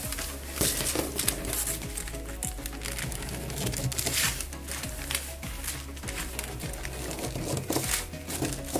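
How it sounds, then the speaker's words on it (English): Scissors snipping through tissue paper along a marked line, a busy series of crisp crinkling cuts and rustles, close and fairly loud, continuing throughout. "I'm just gonna cut it on the line."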